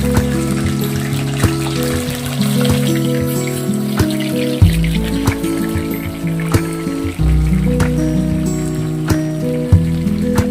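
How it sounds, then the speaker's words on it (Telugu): Chicken pieces frying in hot sesame oil over a high flame for a chicken pickle, giving a steady, close, continuous sizzle with a low tonal hum beneath and no talking. "ఇప్పుడు శుభ్రంగా మాంసం చికెన్ అంతా వేసేసుకోవాలి"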